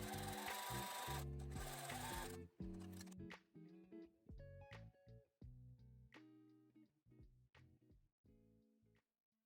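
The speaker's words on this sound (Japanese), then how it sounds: "縫い代にロックミシンをかけます。" A serger overlock sewing machine stitches a seam allowance on a jumper skirt: a loud, steady whirring run first, then a series of short stop-start bursts of motor hum, close and distinct.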